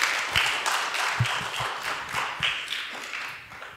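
Scattered claps from a small audience applauding a doctor and young researchers after a talk on satellite air-quality monitoring: a loose run of separate, moderately quiet hand claps that thin out toward the end.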